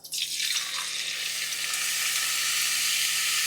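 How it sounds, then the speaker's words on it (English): String fries drop into hot oil and erupt into a loud, bright, bubbling sizzle that swells within the first half second and then holds as a dense, steady hiss, close up and alone. "So we're going to go ahead and start getting these fried up."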